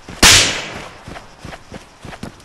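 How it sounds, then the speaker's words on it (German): A single loud gunshot in the ARMA III game, a sharp crack followed by a decaying echo and a few faint softer thumps, with no talking. "die Schüsse sind hier so laut in diesem Game"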